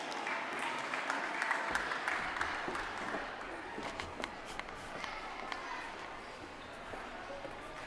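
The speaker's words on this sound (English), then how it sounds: "A big applause for Huga" An audience applauds a performer at a creativity and innovations talk, a steady patter of many hands clapping at moderate distance that carries on evenly throughout.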